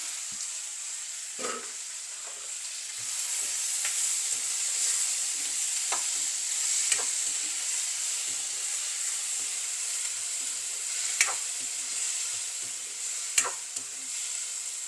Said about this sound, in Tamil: பெரிய வெங்காயமாக அதையும் சேர்க்குறேன் தக்காளி பழத்தையும் சேர்க்குறேன்